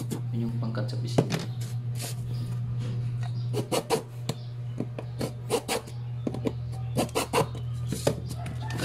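The back of a cutter scores a PCB in short, repeated scratching strokes, close by, over a steady low electrical hum.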